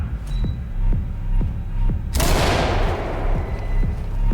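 A flashbang grenade detonates in the tactical shooter Ready or Not, a sudden loud bang midway that trails off into a decaying roar, preceded by rhythmic footsteps and thuds.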